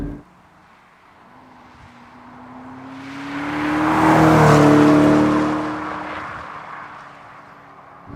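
A McLaren 650S Spider supercar drives past, its engine note swelling from a steady drone to a loud close rush around the middle, then fading away, with no talking.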